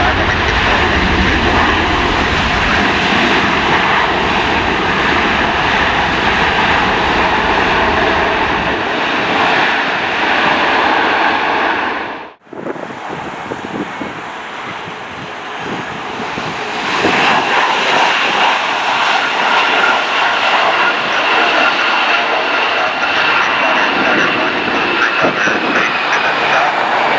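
A heavy jet airliner roars past at LAX, a loud sustained engine rumble that swells, cuts briefly near the midpoint, then continues as a broadband whoosh receding into the distance, with faint air traffic control radio chatter.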